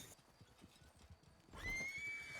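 A horse whinnies partway through, a rising, sustained call that rises above the steady clip-clop of hooves and background bustle, fairly faint overall with no speech over it.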